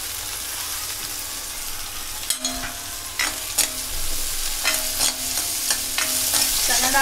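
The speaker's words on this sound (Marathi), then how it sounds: "2 मिनिटं कांद्यामध्ये आपली चणा डाळ परतून घेतलंय" Chana dal with onion sizzles in hot oil in a pan while a spatula stirs it. The spatula gives irregular scrapes and clacks that grow busier toward the end, over a continuous frying hiss, and no one speaks.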